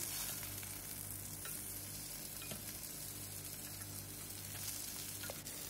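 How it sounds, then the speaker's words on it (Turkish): Steady, quiet sizzling of eggplant frying in a covered pan, with a continuous crackling hiss and occasional small pops throughout. "Mutlaka kapağını kapatarak kızartalım."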